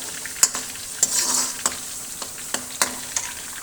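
Garlic sautés dhaba-style in an iron karahi, giving a constant soft sizzle broken by several sharp scraping clinks of a spoon stirring against the pan, close up and without voices.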